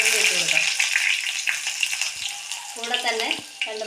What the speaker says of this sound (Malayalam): കടുക് പൊട്ടിയിട്ടുണ്ട്. നമുക്ക് ചെറിയുള്ളി ഇട്ട് കൊടുക്കാം.